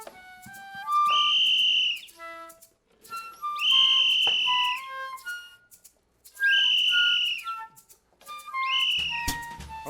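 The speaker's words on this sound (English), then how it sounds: "What I like to do is blow my whistle." Someone blows a whistle four times in a row, each a loud, sustained blast of a second or so with a sliding pitch, separated by brief pauses.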